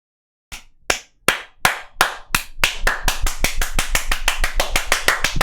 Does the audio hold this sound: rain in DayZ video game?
no